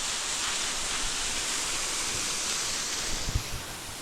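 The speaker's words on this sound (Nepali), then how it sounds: "यो हाम्रो झरना आइपुग्यो साथीहरू" A 300-metre-tall waterfall near a village pours with a steady, dense roar, an even wash of rushing water at close range with no pauses or voices.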